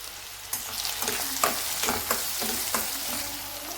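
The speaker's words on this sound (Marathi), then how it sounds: "आता यामध्ये घालत आहोत आपण बारीक चिरून घेतलेला कांदा। कांदा छान असा लालसर आपल्याला परतून घ्यायचा आहे।" Finely chopped onion fries in hot oil with mustard seeds and cumin, a loud close crackling sizzle with stirring scrapes and small pops throughout.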